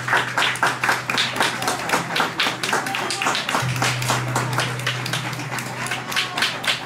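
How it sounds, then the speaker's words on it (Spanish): A steady round of hand clapping from a small crowd, individual claps audible in a brisk, even rhythm, with no voices over it. "Y es justo darle un gran reconocimiento y un aplauso, que es Enrique Martínez por sus actos."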